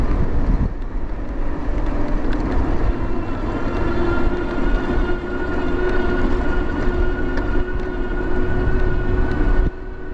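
A UPS delivery vehicle passes behind an e-bike rider on the road, a steady loud engine and road rumble with a droning tone that holds throughout, then eases off near the end.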